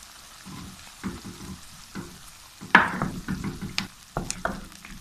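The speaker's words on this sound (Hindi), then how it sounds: "तो अब हम इसमें डाल देते हैं अदरक लहसुन का पेस्ट" Ginger garlic paste hits browned onions in a pan, giving a soft, quiet sizzle punctuated by sharp clinks and scrapes of a stirring utensil.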